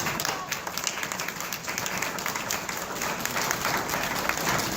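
A town hall audience claps steadily, a dense, continuous wash of applause from a crowd that holds at an even level without stopping.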